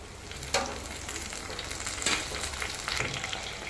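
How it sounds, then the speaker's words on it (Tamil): Tomatoes sautéing in a pan while making a Tamil fish curry (meen kulambu), a steady close sizzle broken by a few sharper stirring scrapes, with no voices. "தக்காளி நல்லா வதக்கிக்கலாம்"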